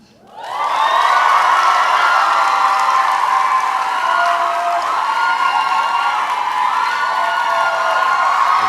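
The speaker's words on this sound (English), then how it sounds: "A round of applause for the African fam." A graduation audience at UWC Costa Rica, Class of 2024, breaks into loud sustained applause mixed with cheers and whoops, a dense crowd roar that swells quickly and holds steady.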